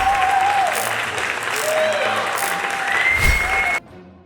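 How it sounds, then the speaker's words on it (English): A crowd at a live One Piece card game tournament claps steadily and loudly in sustained applause, with a faint tone running under it, before cutting off abruptly near the end. "let's all cheer for him"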